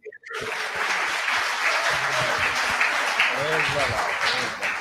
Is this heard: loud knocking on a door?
no